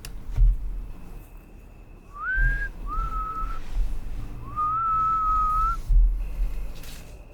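Someone whistles at night during a paranormal investigation: three clear, sustained tones, each rising or gliding, with short gaps between them over a quiet background of occasional low thumps.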